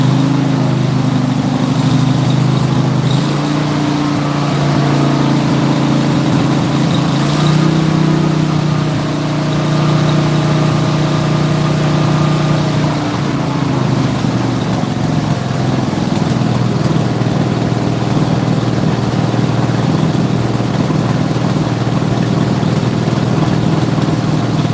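An engine with starter problems runs in a home workshop, idling loudly and steadily up close with a few mild swells of revving before settling back to an even idle.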